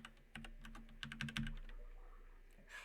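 Computer keyboard typing into a web browser, a quick run of quiet, close key clicks in irregular bursts before fading.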